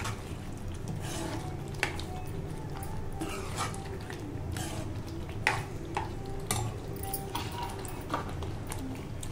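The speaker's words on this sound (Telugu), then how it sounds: "మసాలా మొత్తం కర్రీలో కలిసేలాగా కలుపుకుందాం" Masala is stirred into a curry in a pan, giving a soft continuous simmering sizzle broken by repeated scraping strokes of a spoon at a close, moderate level.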